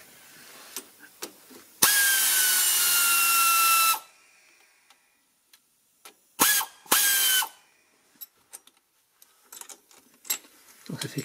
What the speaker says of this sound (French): On va remettre le cliquet en place pour pouvoir bloquer la vis et desserrer ça.